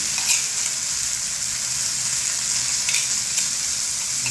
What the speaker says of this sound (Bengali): এবার আমরা দিয়ে দিচ্ছি আদা রসুন পেস্ট